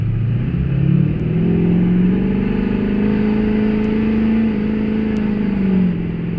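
Tuned 2006 LBZ Duramax diesel pickup truck accelerating hard, a steady loud engine drone that rises in pitch through the run, heard from inside the cab with no talking.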